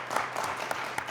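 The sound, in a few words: studio audience applause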